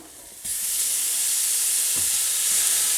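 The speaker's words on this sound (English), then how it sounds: "So into a large pot, we are going to be adding our ground meat." Ground meat hitting a hot large pot sets off a steady, loud sizzle that jumps up sharply and holds, with a few soft stirring knocks under the frying hiss.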